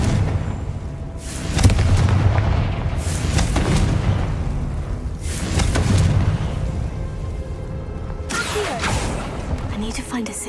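Repeated Confringo fire spells blast in Hogwarts Legacy, a series of booming explosive bursts with whooshing tails spread across the stretch, layered over game ambience and music, with a voice talking in between.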